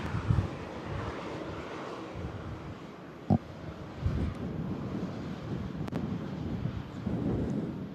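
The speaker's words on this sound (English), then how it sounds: "Still a strong crosswind here at Manchester Airport." Strong, gusty crosswind at Manchester Airport during a storm, buffeting the microphone in uneven low rushes that rise and fall, with a brief thump near the middle.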